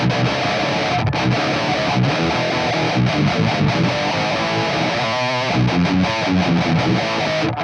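Heavily distorted electric guitar through two blended cabinet impulse responses, one a Vintage 30, chugs and rings out in a dense riff, thick and saturated, played alone without voices.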